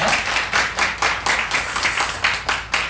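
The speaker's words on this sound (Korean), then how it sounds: "우리 격려의 박수 한번 할까요?" A congregation at a Korean Sunday worship service claps in encouragement, a fairly close, rhythmic round of unison claps landing in a steady beat for about three seconds.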